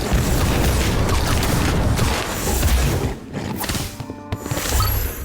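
The Incendio fire spell in Harry Potter Magic Awakened erupts as a dense roaring, crackling blast, loud and sustained, then breaks into thuds and smashing impacts before a final swell.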